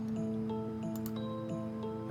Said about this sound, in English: Okay, and then here is a barrel piano.